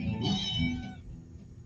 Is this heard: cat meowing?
yes